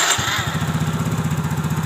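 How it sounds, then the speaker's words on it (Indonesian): A Yamaha Mio GT 125 scooter engine fires up with a thump and settles into a steady, close idle with an even, rapid pulsing beat. "Motor hidup dengan normal di tekanan 40 sampai 42 PSI."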